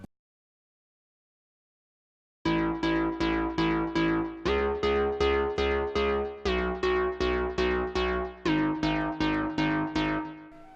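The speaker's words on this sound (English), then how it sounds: "without the Kickstart plugin, it would sound like this." EDM house drop built in FL Studio without sidechain ducking, a dense synth chord stab pattern on a steady pulse, entering after a couple of seconds of silence, with chord changes every few bars and a loud, flat sustained level.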